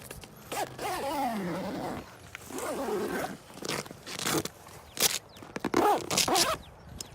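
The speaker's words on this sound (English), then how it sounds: "I like to start with putting the zipper in." A zipper on a Jeep Wrangler soft top window is pulled in several short runs, each a raspy whir separated by pauses, with rustling and handling noises between.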